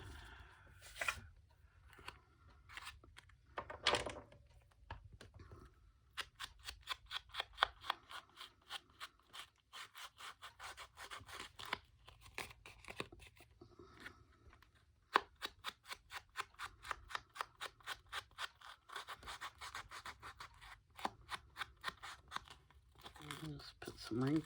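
Small scissors snip out decal shapes, close and crisp, with quick runs of rhythmic cuts broken by short pauses and paper rustles.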